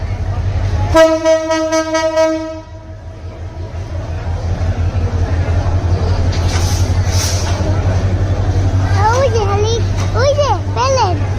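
A loud train horn blares near the start, followed by the steady rumble of a passing train with children's voices and chatter in the background.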